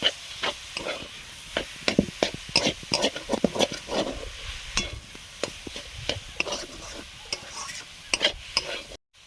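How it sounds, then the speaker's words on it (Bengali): Boiled banana flower being stirred in a frying pan, a repeated scraping of the spatula against the pan over a light sizzle, close and steady with no talking. "এবারে সেদ্ধ করা কলা মোচাটা দিয়ে দিলাম।"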